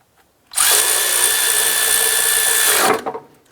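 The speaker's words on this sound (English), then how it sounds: "Gonna get started a few threads. Then we'll tighten it down." A power tool whirs loudly and steadily for about two and a half seconds, tightening a bolt during radiator replacement on a 2005-2007 Ford Five Hundred, then winds down with a couple of short trailing taps; the start and end are quiet.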